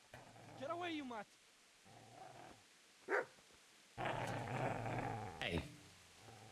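A dog growls and snarls in the medieval role-playing game Kingdom Come: Deliverance II, with rough, rumbling bursts that break off and return, one sharp bark-like peak, and heavier growling later.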